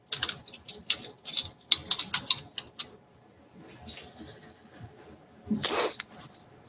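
Fingers tap quickly on a computer keyboard in bursts of crisp clicks, close and fairly quiet, followed by a pause and a louder final keystroke or clatter.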